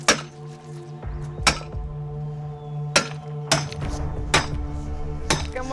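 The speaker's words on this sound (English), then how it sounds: "Okay, who's gonna hammer it, Guy?" Hammer blows on a jade boulder ring out as sharp metallic cracks, about six strikes spaced irregularly over a steady low rumble of machinery, loud and close, with no talk.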